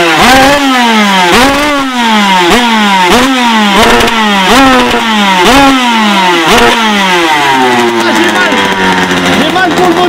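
A small, high-pitched 50cc dragster engine revs hard again and again in rapid rising sweeps, very loud and close, then settles into a steadier drone.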